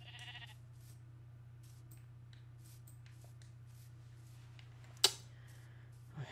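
A single short Minecraft sheep bleat near the start over a steady low hum, followed by soft game sounds and a sharp click.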